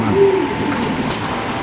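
Pigeons kept in cages at a market coo in low, throaty hoots, close and fairly loud, over faint background bustle.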